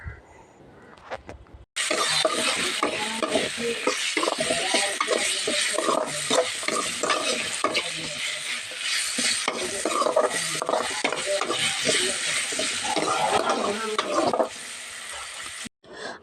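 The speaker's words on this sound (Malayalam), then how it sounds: "അപ്പം ഞാൻ എണ്ണയിലിട്ടിട്ട് നന്നായിട്ടൊന്ന് വഴറ്റി കൊടുക്കുന്നുണ്ട്" Vegetables sauté in oil with salt over a low flame in a home kitchen, a soft continuous sizzle broken by repeated scraping and clinking of a spoon stirring the pan.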